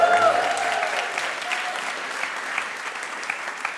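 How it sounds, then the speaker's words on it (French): Steady applause from a comedy show audience, dense and even, with a faint tonal sound at the very start that quickly fades under the clapping. "devant ces applaudissements nourris que vous me destinez"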